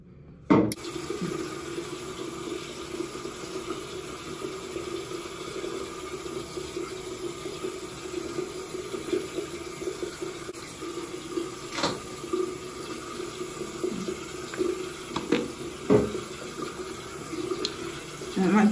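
Water runs steadily from a bathroom sink tap while someone washes their face, a continuous close hiss of flow with occasional splashes and hand movements, with faint talking in the background.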